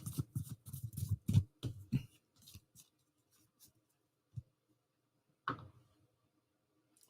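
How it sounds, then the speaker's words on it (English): Tarot cards being shuffled by hand during a live reading, with a quick run of soft riffling flutters followed by scattered light taps and slides, close and quiet, with no speech. "I'm shuffling"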